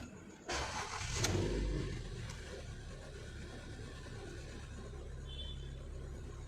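A Ford EcoSport with a fault that sends it into limp mode cranks and starts up, a sudden burst of engine noise that settles into a low steady idle rumble close by.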